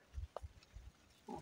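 Pigs grunting on a farm in the Vale do Ribeira, São Paulo, a few faint low grunts and snuffles at close range with a brief higher squeal, quiet and without talk.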